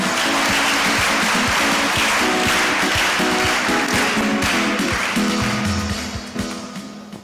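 A church congregation at a Sunday service bursts into loud, sustained applause, dense and close, with a few voices mixed in before it begins to taper off at the end.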